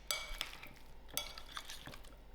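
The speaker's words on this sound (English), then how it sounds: "I'll give this all a nice mix" Paneer and vegetables being stirred in tikka marinade, with soft wet squelches and a few light clinks of a utensil against the bowl, close and quiet, no talking.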